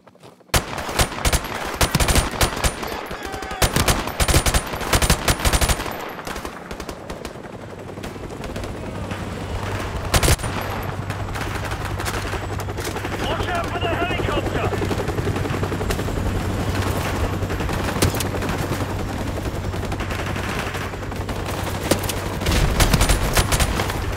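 Heavy gunfire in Call of Duty Modern Warfare Remastered: rapid, loud automatic bursts and overlapping shots in an intense firefight, with dense rattling at the start and a steady low engine hum underneath later on.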